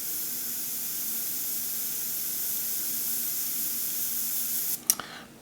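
A single action airbrush sprays paint in a fine random dot texture, a steady close hiss that runs for several seconds before cutting off with a few small clicks.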